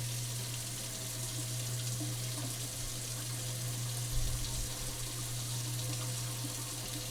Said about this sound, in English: The first step is just to wash it. And you basically want to just rinse off all of the starch.